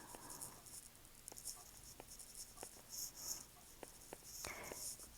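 A pen writes on paper while math notes are taken, giving faint, intermittent scratchy strokes and short taps over a steady background hiss, close and quiet with no speech.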